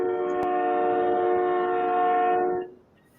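A train passing close behind a house and heard through an open window, blaring a loud, sustained multi-tone horn for over two seconds before it cuts off abruptly.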